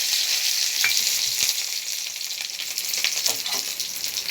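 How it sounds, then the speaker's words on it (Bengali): Onion and red bell pepper hit hot oil in a kadai and sizzle loudly and close, a continuous crackling fry with light stirring and no voices. "ফোড়নে দিয়ে দিচ্ছি পেঁয়াজ আর ক্যাপসিকাম"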